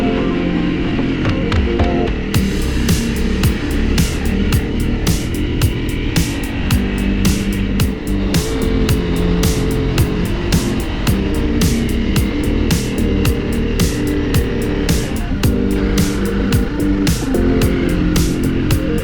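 A Honda CRF300 Rally motorcycle rides through desert sand, its engine a loud, continuous droning buzz with steady ticking and wind rush, close to the rider and without talk.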